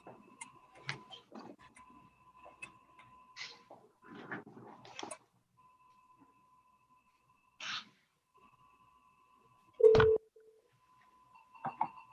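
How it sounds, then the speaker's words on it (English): Telephone dialing tones ring out over a conference call at a committee meeting, a few separate beeps with quiet clicks and ticks between them, faint and with no talk over them. "Can you hear it dialing?"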